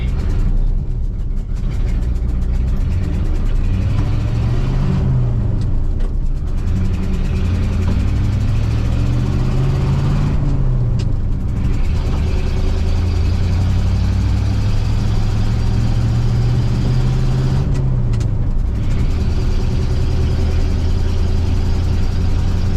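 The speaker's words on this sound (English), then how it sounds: "This truck was made in 1969." A 1969 truck engine runs steadily throughout, a loud close idle with low droning tone that rises and falls in slow revs, with no talking over it.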